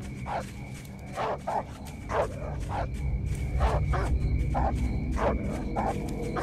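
A dog in the video game Edge of Hearts barks repeatedly in short, evenly spaced yaps over a low background hum, fairly close and clear.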